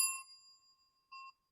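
A bright electronic notification bell dings twice, a sharp chime that rings out and decays, then a shorter second tone, clean and isolated against silence.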